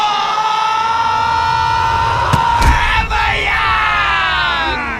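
A crowd yells and whoops loudly as it charges onto the court after a game, a dense wall of cheering voices with a few sharp shouts standing out midway.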